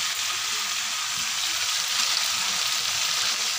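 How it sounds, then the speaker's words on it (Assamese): Spice masala fries in oil in a pan for a potato and pea curry, giving a steady, close, bright sizzle that holds evenly throughout with no talking. "এয়া মছলাখিনি একদম ধুনীয়াকৈ একদম ভাজ খাই গৈছে আৰু একদম কাষেদি তেল বিৰিঙি ওলাইছে"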